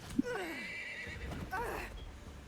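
A horse in the Assassin's Creed Shadows video game gives one clear, close whinny that rises and then falls away, with a faint low rumble under it and a second shorter neigh near the end.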